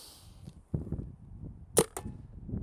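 A Planet Eclipse Geo 4 paintball marker fires through a chronograph, with a few sharp pops close by and two crisp snaps standing out among quieter clicks.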